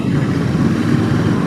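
Royal Enfield Interceptor 650 BS6 twin engine while riding, a steady, fairly loud low rumble with a wind-blown wash over it, continuous and even throughout.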